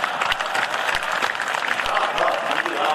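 Audience clapping at an all-India Hindi comic poetry gathering, a dense burst of applause lasting a few seconds with crowd murmur mixed in.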